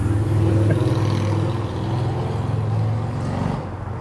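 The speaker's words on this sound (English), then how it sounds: "pause for the motorcycle" A motorcycle passes nearby, its engine a loud steady drone that swells and then slowly fades away.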